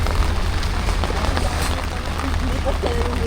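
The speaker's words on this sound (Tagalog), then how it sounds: "lumakas na naman po ang ulan" Heavy rain pattering hard on surfaces beside the Marikina River channel, a constant dense hiss with low rumble, and a voice speaking faintly beneath it.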